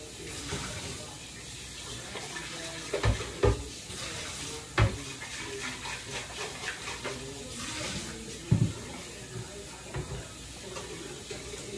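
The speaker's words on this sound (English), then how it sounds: "Now I'm going to rinse this off." Running water rinses a cheesecake pan in a kitchen sink, a steady broadband wash with a few louder clunks and splashes as the pan is handled, close by and with no talk.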